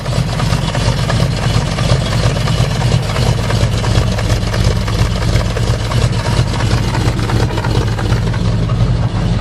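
Cold, cold-blooded car engine idling roughly, lumpy like a big cam: loud, close, continuous low chugging with an uneven pulsing rhythm held steady throughout, no talk.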